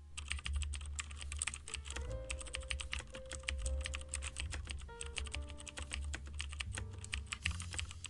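Code being typed on a computer keyboard, rapid close-up key clicks in uneven bursts with brief pauses, continuous and alone without talk.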